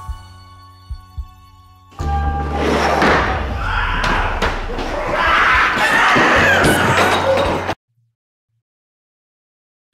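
A door slammed hard during a zombie-themed school skit, one loud thud bursting into sustained chaotic crowd noise with screaming and shouting children, then cutting abruptly to silence.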